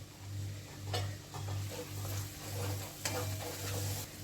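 Spice paste and Kashmiri chili powder frying in oil in a pan, a continuous close sizzle with stirring scrapes and a low humming background pulsing throughout.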